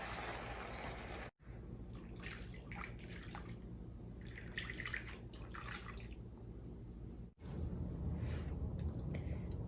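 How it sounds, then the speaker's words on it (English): About three cups of pork broth pour into a pot for a red chile tamale sauce, a soft continuous liquid splashing and gurgling close by, quiet and alone. "And then we'll add in the broth."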